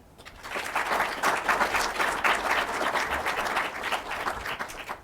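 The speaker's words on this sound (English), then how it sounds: "a round of applause for the panel" Audience applause for a panel at a discussion event, a sustained even wave of clapping that swells quickly and holds for several seconds with no talking.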